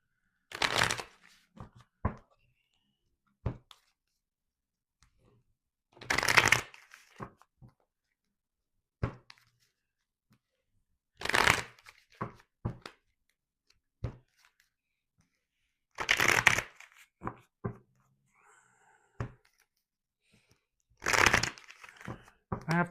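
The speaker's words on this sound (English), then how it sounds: "I have to keep shuffling." Tarot cards are shuffled in short riffling bursts every few seconds, crisp papery flutters separated by quiet pauses with small taps and rustles between, close and moderately soft.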